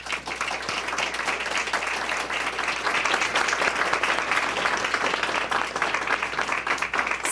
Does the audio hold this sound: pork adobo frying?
no